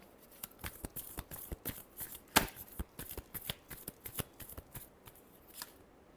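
A deck of tarot cards is shuffled up close, giving quick irregular riffling clicks and flutters with one sharper snap near the middle. No one speaks.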